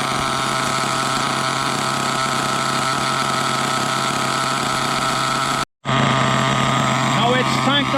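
A nitro-powered HPI Trophy Truggy 4.6 RC truck engine (.28) idles steadily with a buzzing drone, interrupted by a brief cut of silence near the end, then resumes with faint voices.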